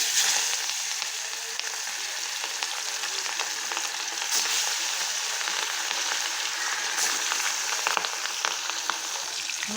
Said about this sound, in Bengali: তেল আমার গরম হয়ে গেছে, এখন মাছগুলো ভেজে নেব।